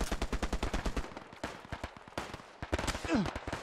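Gunfire in the World War II shooter Hell Let Loose: a fast burst of rapid shots at the start, then scattered single cracks and short volleys, loud and close, with faint voices in the background.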